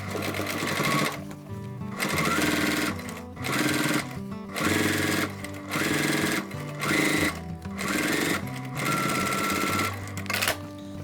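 A sewing machine stitches a bag seam close to the edge, running in short loud bursts of rapid whirring separated by brief pauses, about eight runs in quick succession, near and clear.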